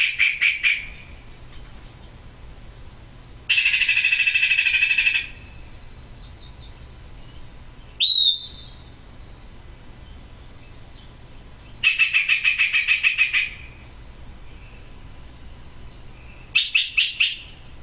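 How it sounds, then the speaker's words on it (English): A songbird with a huge repertoire sings a varied song, delivering several separate bursts of rapid chirps and trills with quiet gaps between them, clear and alone. "It has a huge repertoire of calls, and it mixes them all up in random ways"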